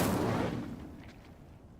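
Incendio fire spell cast in Hogwarts Legacy bursts out as a loud, explosive whoosh that decays over about a second into a fading crackle and rumble, with no talk over it.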